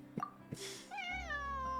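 A cat in Genshin Impact lets out a drawn-out, rising and falling meow after a few short plops and a puff of breath, close and fairly clear.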